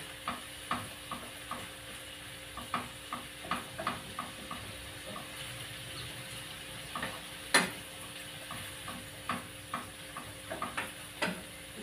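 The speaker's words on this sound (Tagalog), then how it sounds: "kailangan natin lutuin yung karne bago natin ilagay yung ating mga veggies din guys" Pork meat frying in a pan for Shanghai rolls gives a soft steady sizzle broken by frequent light ticks and scrapes of a utensil stirring, fairly quiet and close, without speech.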